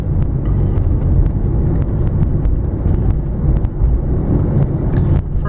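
A 1994 Mercedes-Benz 500SL R129 roadster on the road, a steady low engine and road rumble with some wind noise and faint ticks, smooth and continuous from inside the car.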